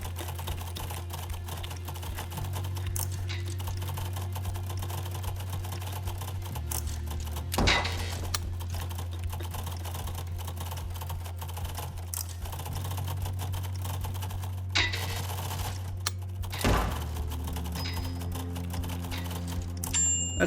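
Keyboard typing during an online typing test: a fast, continuous patter of key clicks over a steady hum, with a few louder clacks now and then.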